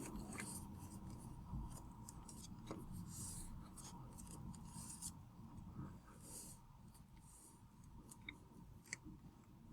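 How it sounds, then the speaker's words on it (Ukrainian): A sheet of paper is folded twice along its center line while making an origami dog, giving faint, steady rustling and soft creasing close by, with a few light taps. "По центральній лінії складаємо листок двічі."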